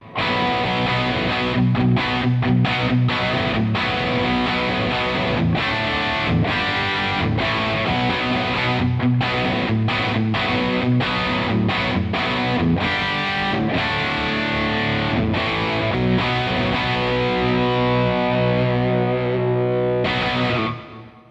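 Heavily overdriven electric guitar through a Marshall JVM amp's overdrive channel plays continuous distorted chords and riffs, loud and saturated, ending with a fade.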